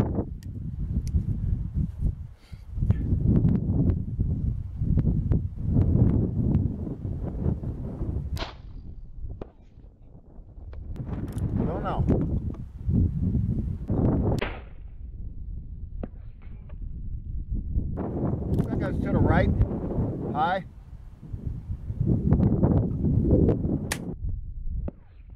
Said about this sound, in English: Here comes that wind.